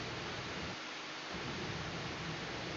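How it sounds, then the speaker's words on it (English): Steady rain heard in the background as a constant, faint hiss with a low rumble, like a distant storm, continuing without a break and with no talking. "There's a bunch of rain in the background."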